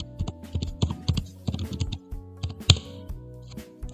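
Keys clatter on a computer keyboard as a web address is entered, a quick, uneven run of close, crisp taps with short pauses and one sharper keystroke near the end.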